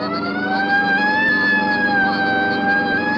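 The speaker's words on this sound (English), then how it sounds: "Right, I'll hit the siren." A police car siren wails loud and close, a steady rising and falling electronic tone sounding alone without any talk.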